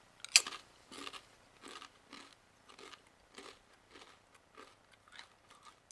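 Someone bites into a brown rice crisp cracker with a sea salt coating, giving a sharp first crunch followed by about nine evenly spaced close chewing crunches, with no talk.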